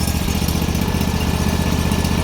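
A Bolens HT-23 garden tractor engine runs steadily close by. Its loud, even putter carries through the whole stretch with no talking.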